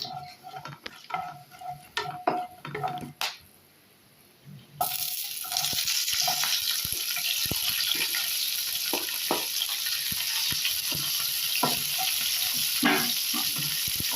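Onions sautéing in oil in a pan for a mutton leg gravy, with scattered taps and clinks of a utensil at first, then a steady, loud, continuous sizzle that fills the rest of the clip.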